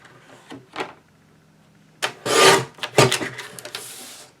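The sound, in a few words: cutting a recycled Christmas card along its seam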